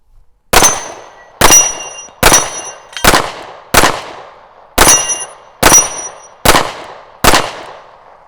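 Eight gunshots ring off steel target plates during a shooting match, fired at a brisk, slightly uneven pace. Each sharp crack is followed by a bright metallic clang that fades quickly, and no one speaks.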